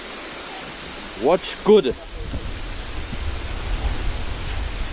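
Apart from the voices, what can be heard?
hidden waterfall at Matelot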